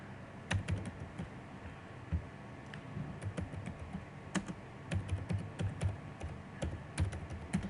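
Someone types a support ticket subject on a computer keyboard, with soft, close keystrokes in uneven clusters and brief gaps, faint against a low background hiss.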